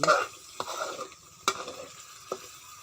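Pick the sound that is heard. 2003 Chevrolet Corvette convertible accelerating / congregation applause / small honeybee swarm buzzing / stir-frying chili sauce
stir-frying chili sauce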